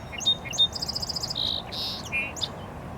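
Bird song of simple, drawn-out notes repeated in short series at the edge of a marshy pond, clear and fairly close over a low background hum, with several phrases and brief pauses between.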